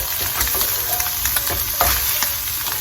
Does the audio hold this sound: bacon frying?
yes